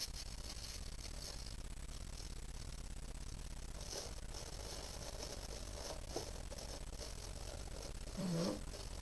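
Tissue paper is crumpled by hand close up, a faint run of soft crackling rustles and crinkles over a steady background hiss, with a brief louder rustle near the end.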